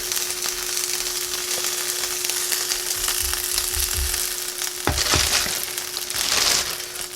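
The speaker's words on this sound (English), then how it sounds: "We'll lay it down on the frying pan" Chicken quesadilla on a flour tortilla frying in a pan, a steady close sizzle with crackling bursts and a few soft scraping, crushing touches as it is handled.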